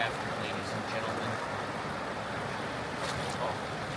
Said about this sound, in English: Is the water so loud in the wind kind of?